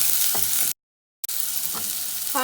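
Carrots fry in a pan for chicken soup, giving a steady close sizzle that cuts out to a brief silence midway, then resumes with light stirring knocks near the end.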